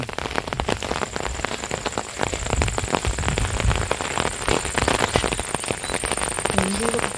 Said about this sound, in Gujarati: વરસાદે પણ કેવો પણ તાકડો લીધો પાછો